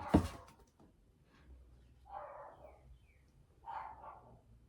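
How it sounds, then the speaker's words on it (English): A dog barks faintly in the distance, two muffled barks a second or so apart following a brief sharp knock, in an otherwise quiet room. "do you hear my dog barking?"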